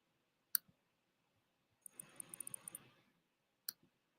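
Computer mouse clicks come through in a quiet room: a single sharp click, then a short burst of rapid clicking with faint rustle, then one more crisp click, close and distinct.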